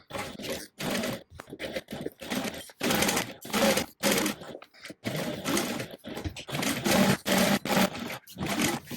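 A sewing machine runs in bursts while top stitching a fabric bag, whirring fast and then stopping and starting again in short runs, close and fairly loud with no talking.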